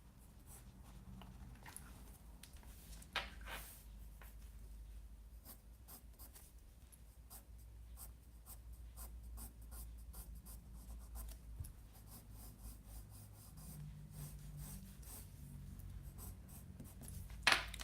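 A pencil sketches a car on paper, a steady dry scratching and rubbing with quick strokes and a few sharper taps, close and quiet, with no talk.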